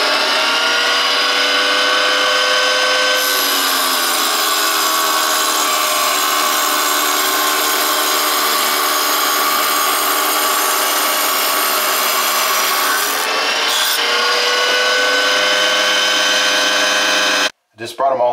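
A saw cuts floor tiles with a loud, continuous high-pitched grinding whine that holds steady for over fifteen seconds, shifts pitch slightly as it bites, and then stops abruptly.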